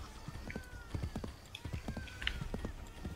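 Rapid hoofbeats clip-clop from a galloping horse in Assassin's Creed 3, a quick uneven rhythm of thuds with a faint whinny, moderately loud under someone talking.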